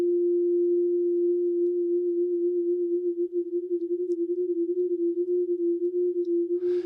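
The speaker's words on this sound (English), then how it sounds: "Right now in my headphones, I'm getting this kind of swirly left and right sound." A steady pure sine tone with a chorus effect applied, holding one pitch while a gentle swirling wobble grows stronger over the second half, alone and fairly quiet.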